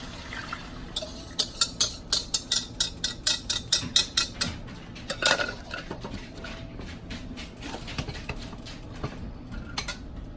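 A metal utensil scrapes and clinks against a pan while bacon gravy, made with crumbled bacon and bacon grease, is stirred on a stove. A quick, close burst of rhythmic taps gives way to softer, scattered scraping.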